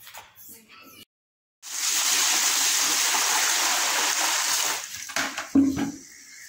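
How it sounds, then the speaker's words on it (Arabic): Running water pours and splashes into a plastic washtub as items are rinsed by hand, a steady rushing stream for several seconds that then breaks into uneven splashes and sloshing before stopping. "اجيب الطشت بتاعنا واغسله"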